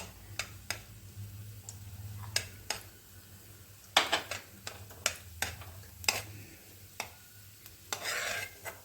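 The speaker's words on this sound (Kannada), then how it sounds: "ಜಾಸ್ತಿ ಬೇಡ, ಸ್ವಲ್ಪನೇ ಫ್ರೈ ಮಾಡ್ಕೊತೀನಿ" Semolina is stirred as it dry-fries in a pan for a jaggery sweet, with sharp scraping ticks and clinks from the spatula repeating irregularly over a faint, low sizzle.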